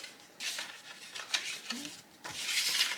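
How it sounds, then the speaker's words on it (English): A bone folder rubs firmly along creases in paper card for a gift card holder, giving close, soft scraping strokes in two or three bursts with brief pauses between them. "I'm using my bone folder to make my lines a little more crisp"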